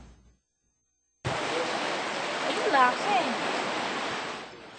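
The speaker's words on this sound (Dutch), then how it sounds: "Het zeewater beukt tegen de palen die als dijk fungeren" Seawater surges and crashes against a row of posts serving as a dike during an unusually high tide, a steady loud broadband rush that starts abruptly after near silence, with faint voice-like tones briefly mixed in.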